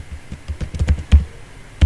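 Keys on a computer keyboard tapped in a quick, irregular burst of close clicks, followed by a pause and a single firm keystroke.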